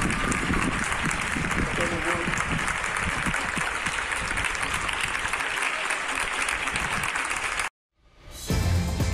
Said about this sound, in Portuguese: No final da apresentação, ele foi aplaudido pelo público que está em isolamento.